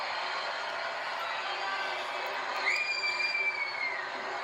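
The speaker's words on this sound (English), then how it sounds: "And the crowd goes wild." Crowd cheering at a Trump rally in Arizona, a dense, distant roar of many voices that swells briefly near the end, with a whistle-like tone cutting through.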